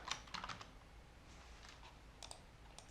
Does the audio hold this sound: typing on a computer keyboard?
yes